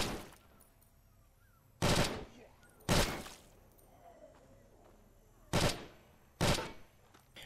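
Short, punchy bursts from an AK rifle in the zombie game State of Decay, four separate loud volleys spaced a second or more apart with quiet gaps between them.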